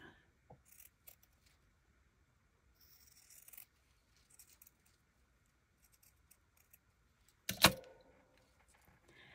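Scissors snipping paper for Easter journal cards, scattered faint cuts and rustles in a quiet room, with one sharp louder snip near the end and no talking.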